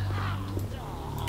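A crossbow shot in The Walking Dead: Survival Instinct, heard as one sharp, close whip-like snap near the end of a short stretch of game ambience.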